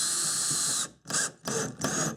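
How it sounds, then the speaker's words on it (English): A power drill drives screws up into a custom countertop from underneath in a vintage Shasta camper trailer, one long whirring run and then three shorter bursts, loud and close. "Now I'll just put some screws in from underneath so it'll stay put."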